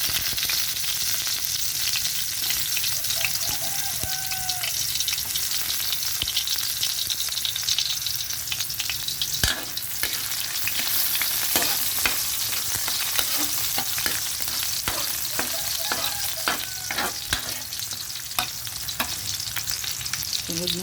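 Onions sauté in a hot pan with loud, constant frying and sizzling up close, broken by occasional scrapes and clinks of a utensil stirring, and no talking.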